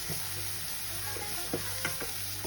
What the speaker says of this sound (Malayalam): എല്ലാം ഒരു 3-4 സെക്കൻഡിൽ കൂടുതൽ നമ്മൾ സോട്ട് ചെയ്യേണ്ട